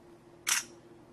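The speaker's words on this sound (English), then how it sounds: "if I press down the shutter button halfway, it'll get a focus and then I can take the photo" A DSTL1 camera shutter fires once as its button is pressed to take a photo, giving a single short, crisp click close to the microphone with no other sounds around it.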